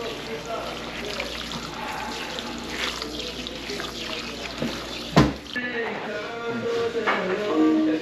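Cold tap water runs steadily at a barber's sink while hair is rinsed, a continuous close splashing stream with a brief knock midway and voices talking faintly beneath it.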